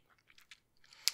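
Close, crunchy bites and chewing on a Taco Bell taco supreme. A few quiet crackling chews end in one sharp, brittle crunch, with no talking.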